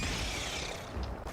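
A magazine being reloaded in a first-person shooter video game makes a quick mechanical clatter of ratcheting and clicking parts, with a sharper click near the end, all within about a second.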